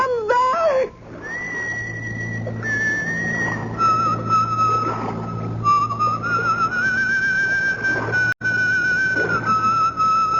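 A woman whistles a slow, wavering tune in an old-time radio drama, sustained and fairly close, over a low steady hum.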